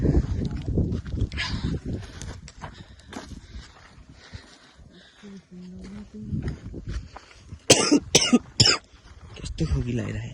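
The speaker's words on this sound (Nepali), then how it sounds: "कस्तो खोकी लागिरहे" A person on a day trek coughs repeatedly, with a cluster of sharp, close coughs and throat clearing amid footsteps and people talking.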